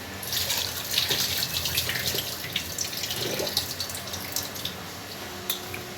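Sweet potato slices are washed in water, with splashing, swirling and dripping close by in uneven bursts, fairly quiet overall.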